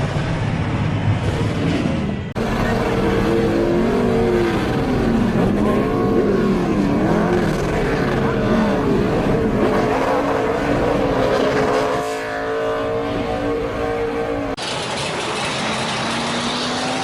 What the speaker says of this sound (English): Earnhardt, Labonte, and Waltrip are literally bumper to bumper to bumper as they come